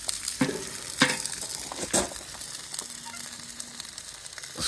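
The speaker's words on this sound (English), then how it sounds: "Sizzling away nicely." Spatchcock peri peri chicken sizzles and crackles on a hot grill over camel thorn wood, with a few sharper scraping or turning sounds and soft pops over the steady hiss.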